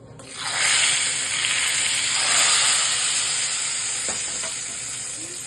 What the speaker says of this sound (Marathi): आता ही फोडणी केलेली आपण घालूया त्या कढीवर.